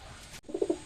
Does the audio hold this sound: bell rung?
no